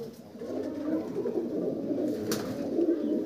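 Pigeons coo softly and continuously in a loft, a steady low murmur with no talking over it.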